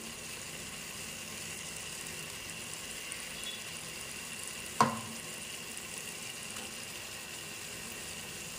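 Spice paste for a duck egg curry frying in a pan with salt, turmeric and chili powder, a quiet steady sizzle that runs throughout, broken once by a brief sharp clink.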